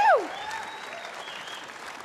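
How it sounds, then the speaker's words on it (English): Applause from an awards-show audience after the band is thanked, a steady broadband patter that holds at moderate level throughout, with a brief high whistle-like tone at the start. "Ladies and gentlemen, give them a big round of applause."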